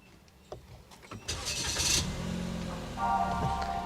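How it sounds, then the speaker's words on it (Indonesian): Daihatsu Rocky engine cranking and catching: a few faint clicks, a brief starter whirr, then the engine fires and settles into a steady idle with a small rev near the end, heard up close. "Oke, kita nyalakan dulu mesinnya."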